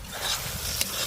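Meat stirred and sautéed with spices in a pan in a home kitchen, giving a steady close scraping and sizzling texture with a brief sharp clink near the end.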